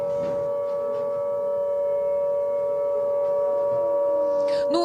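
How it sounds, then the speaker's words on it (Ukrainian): An air raid siren in Kyiv holds a steady, sustained tone at one pitch throughout, loud and continuous, with faint background noise and a brief rustle near the end. "у столиці лунає сигнал повітряної тривоги"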